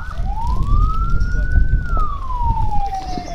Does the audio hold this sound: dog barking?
no